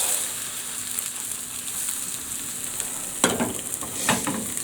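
An egg frying in a pan after being flipped, with a steady bright hiss of hot fat, a burst of louder crackle and spatter near the end, close up.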